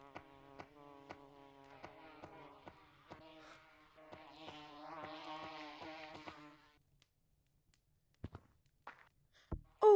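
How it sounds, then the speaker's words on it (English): Bees drone with a steady harmonic buzz in the game Gorilla Tag, broken by regular tapping steps, before fading out to a few scattered knocks. "Oh, there's bees."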